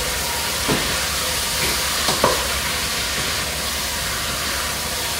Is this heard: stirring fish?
yes